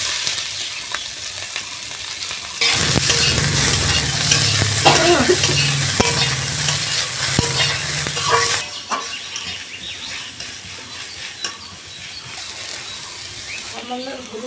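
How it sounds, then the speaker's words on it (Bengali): Chopped onion with slit green chillies sizzles steadily in hot oil in a pan, with scraping stirs through the frying and the sizzle settling lower toward the end; no talk is heard. "পেঁয়াজ কুচি দিয়ে দেবো।"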